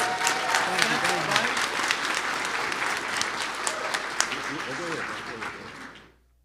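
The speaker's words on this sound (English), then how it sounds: "let's give this young gentleman a round of applause" Audience at a millionaire panel event applauding a young man, a dense sustained round of clapping that holds steady for several seconds before cutting off abruptly.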